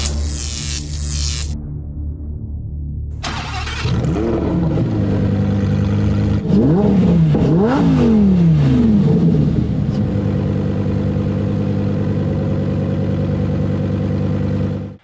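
A V10 engine in an Ultima Evolution cranks and fires up, revs sharply a few times, then settles into a loud, steady, throbbing idle with no talking.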